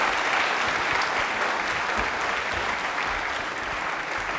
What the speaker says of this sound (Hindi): तालियां एक बार जोरदार होनी चाहिए प्लीज